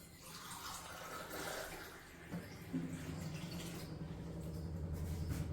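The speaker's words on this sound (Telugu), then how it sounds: "నీళ్ళు పోస్తున్నాను" Water pours into a soup pot on the stove, a quiet continuous splashing stream that deepens in tone as the pot fills, faint and steady with a small knock partway through.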